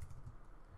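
Keys tapping on a computer keyboard while code is entered for a Corona SDK game, a short run of soft, close clicks heard alone.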